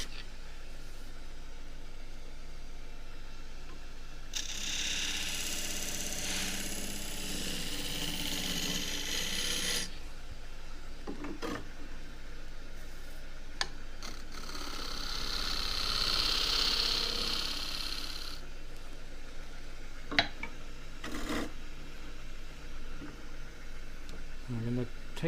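A scraper brushing the surface of a green casuarina bowl spinning on a wood lathe gives two long soft hissing rasps over a steady motor hum, with scattered clicks and someone talking at times.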